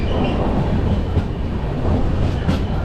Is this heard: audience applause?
no